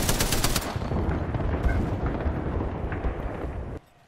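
Gunfire in the video game Apex Legends, a dense, loud barrage of shots and booming impacts that cuts off abruptly near the end.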